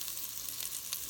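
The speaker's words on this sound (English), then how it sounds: "And now I'm going to add my onion" Chopped onion hitting a hot pan for a bacon, shrimp and corn chowder, a soft, quiet, continuous sizzle over about a second with no talk.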